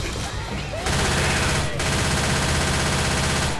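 Automatic gunfire rattles in rapid, continuous bursts during a zombie shootout in the co-op video game Left 4 Dead, loud and close, with voices faintly underneath.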